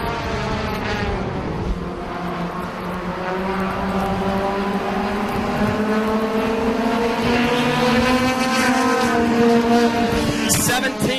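Race cars in a championship final with a six-car breakaway at the front of the field, loud layered engines droning and shifting pitch as they pass, steady and continuous, with faint broadcast commentary underneath.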